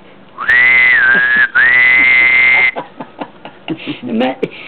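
A person whistles loudly and close by, holding a high, steady tone with a quick downward slide and a brief break, followed by a few soft voice sounds.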